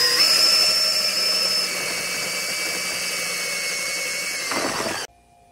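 Power drill stirring corn mash in buckets: a loud, close, high whirring spin that dips slightly in pitch partway through, then cuts off abruptly near the end into near silence.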